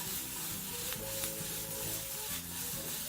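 A pan of spaghetti and meatballs with minced garlic is shaken, giving a steady rustling, scraping clatter with a faint sizzle underneath, continuous and close for a few seconds.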